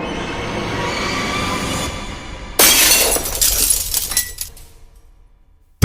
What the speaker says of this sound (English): The glass wall exploded outward.